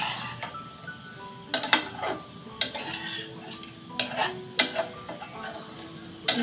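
Vegetable bhaji stirred in a covered pot over a low flame, with a spoon scraping and clinking against the pot in bursts over a faint sizzle, close and without talk.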